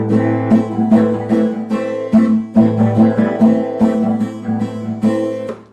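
A Spanish guitar is strummed fast and rhythmically, with the fingers lifted on the upstrokes, giving a dense run of bright, ringing chords with crisp, regular attacks, close and clear, with no voice.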